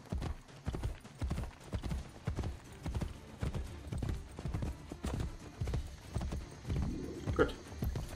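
Rhythmic clip-clop of horse hooves trotting on hard ground in the video game Assassin's Creed Brotherhood, steady and close, with a short snort or whinny near the end.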